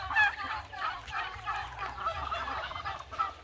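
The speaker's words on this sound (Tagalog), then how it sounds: "Ayun, mga native chicken." Native chickens mingle with turkeys on a rural ranch, producing overlapping clucks and fowl calls at close to moderate distance, continuous and busy, over a low rumbling background.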